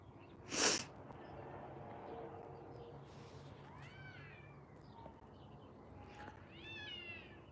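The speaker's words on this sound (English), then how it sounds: "That is feral cat sex happening." Feral cats yowling and wailing outdoors while mating, in drawn-out, rising cries, mid-distance over a steady hiss of background noise, with a sharp loud burst early on.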